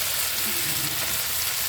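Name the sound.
spinach added to hot pan, frying in spice paste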